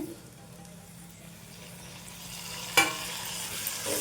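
Onions and a large tomato frying in oil in a pan for an eggplant curry, a soft continuous sizzle with a sudden clink of a utensil near the end.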